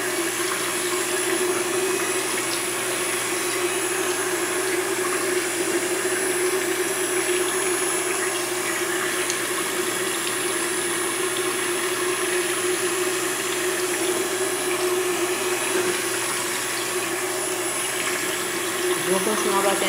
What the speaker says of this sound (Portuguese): Vou continuar batendo mais ainda.